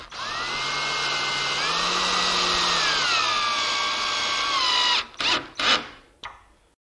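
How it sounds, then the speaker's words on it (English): A drill drives pocket hole screws into a wooden chest-on-frame cabinet: one loud, sustained whine whose pitch shifts slightly as the screw seats, then two or three quick trigger bursts before it stops. "And we can tighten up the pocket hole screws"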